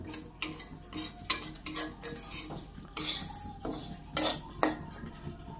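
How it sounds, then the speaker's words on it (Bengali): Dal frying in a pot while a metal spoon stirs it: sharp scraping strokes against the pot come at an uneven rhythm, close and fairly loud, over a soft, steady sizzle. "ডালটা ভাজতেছে।"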